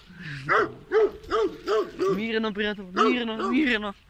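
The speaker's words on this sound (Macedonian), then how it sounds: "Ето кучето што ме лае." A dog on a village road during an early morning walk gives a string of short, sharp barks and yelps in quick rhythm, close by, while someone speaks calmly over it.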